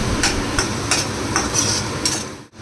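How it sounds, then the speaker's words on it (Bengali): A cumin and coriander paste sizzles in a wok while a spoon scrapes through it in about six quick, evenly spaced strokes, close and fairly loud, before a brief drop at the end. "এই মিশ্রণটাকে আমি কড়াতে অ্যাড করব আর খুব সুন্দর করে কষিয়ে নেব।"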